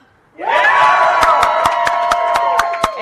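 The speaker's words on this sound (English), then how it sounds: "cheering for Sephiroth, but Kefka has a much louder support base" A live audience at a podcast recording at Dragon Con bursts into loud cheering and whooping for Sephiroth, with sharp claps and shouts punctuating the roar.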